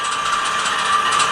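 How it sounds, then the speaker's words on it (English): An ESU LokSound 5 decoder in a ScaleTrains Dash 9 model locomotive plays the air dryer shutdown effect, a loud, steady hiss of rushing air with a faint ringing tone, running unbroken throughout. "Function 16 is the air dryer on shutdown."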